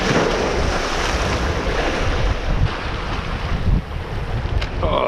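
Strong coastal wind roars across the microphone during lure fishing, a loud steady buffeting rush with waves and surf underneath and no voices.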